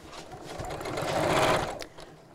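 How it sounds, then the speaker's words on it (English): A sewing machine stitching straight across the seam of a round bamboo-handled bag, its motor whirring steadily and swelling in the middle before easing off, heard alone at close range. "and sew straight across here. Backwards and forwards."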